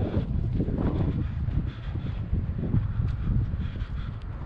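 Steady outdoor wind roars and buffets the microphone without a break, a broad low rumble with gusty swells on a trapline where the ground is being packed.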